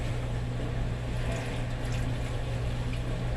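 One cup of water pours into a pot holding beef broth, a bouillon cube and brown gravy mix in a home kitchen, a steady close rushing trickle over a low constant hum.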